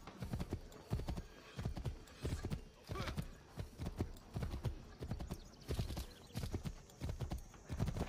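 Rhythmic clip-clop of horse hooves at a brisk gallop in Assassin's Creed III, steady and fairly close, with a brief whinny among the hoofbeats.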